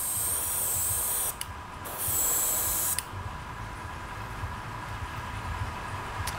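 Green Stuff World color shift paint is sprayed from an airbrush in two short hissing bursts, close and fairly quiet, followed by a lower steady airy hiss with no talking.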